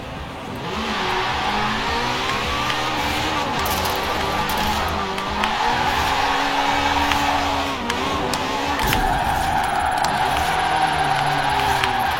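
A high-horsepower car of around 683 hp drives hard, its engine roaring loud and steady throughout with bursts of skidding tire squeal layered over it.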